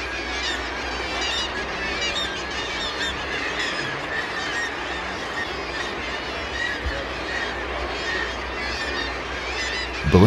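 Brünnich's guillemots, kittiwakes and glaucous gulls call continuously from nesting ledges on a sea cliff in the Franz Josef Land archipelago, a dense, loud chorus of overlapping honking and squawking cries with no pauses.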